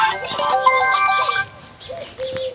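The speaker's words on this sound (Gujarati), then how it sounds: "અરે લાખાજીનો ફોન." An incoming call sets a phone ringtone playing: a bright electronic melody with a steady pulse that sounds close and loud for over a second, then drops to quieter tones.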